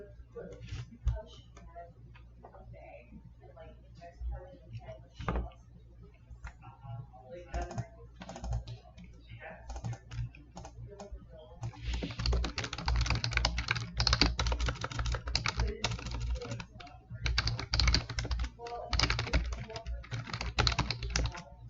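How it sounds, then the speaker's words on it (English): Clicky computer-keyboard typing comes in quick, uneven bursts, soft at first and then denser and louder in the second half, under a person talking. "I'm also typing. I apologize."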